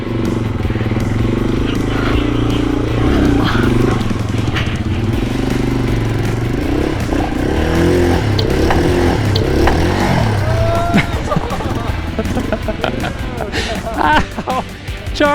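Yamaha TW200 motorcycle engine labouring up a hard enduro trail, loud and close, revving and shifting pitch continuously for the whole stretch, with some faint voices mixed in.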